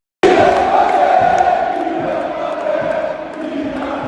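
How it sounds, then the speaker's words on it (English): PSG ultras fill a stadium with a roaring, sustained crowd cheer that erupts suddenly and stays loud, a dense wash of many voices shouting together. "So, he stays and the crowd goes mental."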